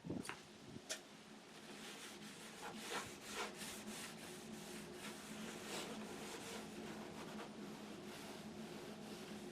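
A magic eraser rubs across the plastic case of a Gateway 2000 computer monitor in a steady, close scrubbing that carries on for the whole stretch, with a few sharper scuffs near the start.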